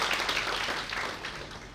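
A crowd at a Shiv Katha religious gathering in Khergam bursts into dense, sustained applause for Mayurbhai, a close, steady roar of clapping hands.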